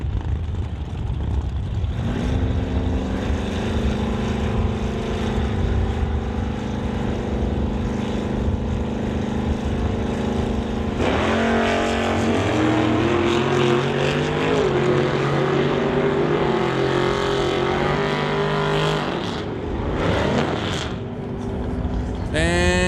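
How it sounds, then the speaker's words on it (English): A Plymouth and a Ford Roadster launch side by side at a drag strip, engines roaring loud and steady, with a sharp rise in revs midway and rising, shifting engine tones as the cars run, then fading. "Rob Hodgson brings up the Plymouth, dialed at a 1089 to race Blair Criddle in the Precision Motorsports Ford Roadster"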